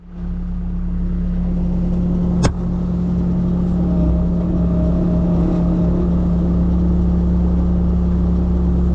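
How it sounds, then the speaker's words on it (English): A skid loader engine runs steadily at close range, a constant low mechanical hum with one sharp metallic click partway through and no talk. "So we need to get the skid loader in here first."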